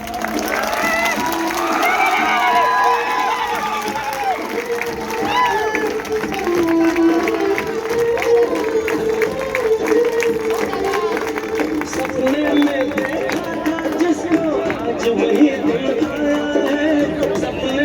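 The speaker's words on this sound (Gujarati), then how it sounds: "આપણે બધા જોરદાર તાળીઓથી એમને વધાવીશું" A large outdoor crowd claps and cheers to welcome a chief guest at a political gathering, a loud continuous roar of applause with whoops, music and voices mixed in throughout.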